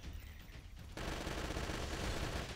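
An automatic rifle in the video game Left to Survive opens up after a quieter first second, then fires a loud, continuous rapid burst that runs to the end.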